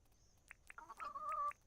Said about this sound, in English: the chickens are already escaping.